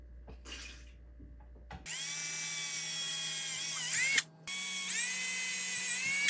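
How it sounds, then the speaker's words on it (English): A power drill bores holes through an SR Custom skid plate on an RC crawler. Its loud, steady high whine runs in two long stretches with a brief stop between them, and no one speaks. "figure out how and where to mark the holes to drill through the SR Custom skid plate to mount this transmission on here"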